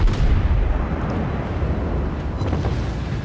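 Warship guns fire a volley in World of Warships, a heavy, rumbling boom that dominates and fades slowly into a sustained low roar with no voices.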